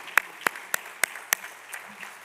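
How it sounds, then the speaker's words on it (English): Sparse, scattered handclaps from an audience at the Gerald R. Ford Presidential Foundation annual awards dinner, about seven separate claps spaced over two seconds, fairly quiet and thinning out toward the end. "And just give them applause, please, for their good work."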